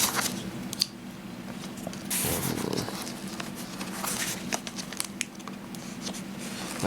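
Package being cut open with a blade: close crinkling and scraping of plastic wrap and cardboard, with a louder rough slicing burst partway through and scattered small clicks.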